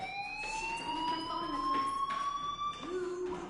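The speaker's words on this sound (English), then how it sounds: "Hey, do you hear that fire alarm?" A fire alarm in the video game Life is Strange, a loud, continuous wailing electronic tone that slowly rises in pitch, with brief bursts of sound cutting in.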